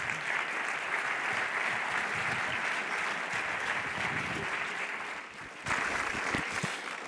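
Audience at a presentation of a digital rights observatory claps steadily, a moderately quiet, sustained round of applause with a brief dip before it swells again.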